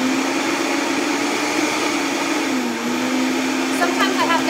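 A blender runs steadily while blending pesto made with garlic and olive oil, a loud continuous motor whine that dips briefly in pitch partway through and then recovers, with a few faint clinks near the end.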